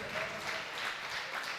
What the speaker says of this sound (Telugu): కొట్టు చప్పట్లు గట్టి కొట్టు.